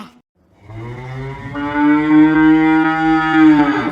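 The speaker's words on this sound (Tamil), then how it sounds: "மாடு சத்தம் இந்த ரூம்ல இருந்து தாமா கேக்குது" A cow moos loudly and close, a long drawn-out low call that rises in pitch and holds steady, with no other sounds around it.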